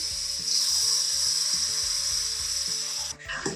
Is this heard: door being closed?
no